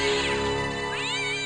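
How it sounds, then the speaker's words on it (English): A cat meowing in the point-and-click adventure game Broken Sword: The Shadow of the Templars, one loud, drawn-out rising and falling meow heard close over a sustained musical tone. "there's a cat somewhere"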